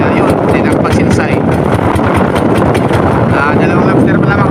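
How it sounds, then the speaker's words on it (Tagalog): Strong wind roars at sea aboard a fishing boat, a loud, constant buffeting rush that fills the whole clip alongside heavy low rumble. "Lumakas yung ano, lumakas ang hangin."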